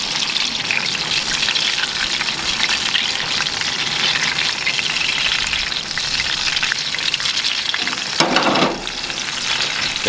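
A steak sizzles steadily in a pan as clarified butter is spooned over it, a close, continuous crackling fry with a brief louder burst of spattering near the end.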